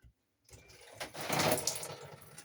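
Water runs from a shower tap in a Swift Jura camper, starting suddenly after a brief silence as a steady, moderately loud hiss and splash.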